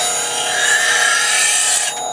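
A woodturning tool held in a sharpening jig is ground against a grinder wheel turning at about 1700 to 1800 RPM, giving one close, steady rasping scrape for about two seconds before it eases off, with no talking.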